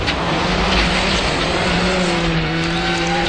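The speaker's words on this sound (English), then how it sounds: "We're full on the throttle, brake, turn into the corner, then full on the throttle all the way through the corner again." A rally car at full throttle through a corner, its engine a loud, steady broadband roar that climbs in pitch as it slides through, with tire and gravel noise underneath and no talk.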